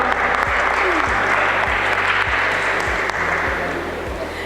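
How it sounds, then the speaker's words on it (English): Sustained audience applause fills a conference hall as a speaker is welcomed onto the stage, a dense steady wash of clapping with low hum and brief voices underneath. "Give him a big round of applause,"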